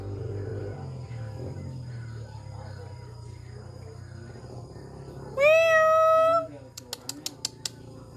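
Forest cats at a feeding spot, with one loud, close meow near the end, followed by a few short sharp ticks, over a quiet low background rumble.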